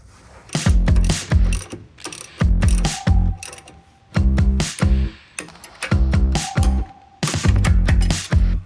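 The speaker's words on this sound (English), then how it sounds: "So now I'll be using a 19 millimeter socket and wrench to tighten up those bolts on the turnbuckle" A 19 mm socket wrench ratchets as it tightens the turnbuckle bolts on a heavy-duty tie rod, loud and close. The clicking comes in about nine rapid bursts separated by short pauses.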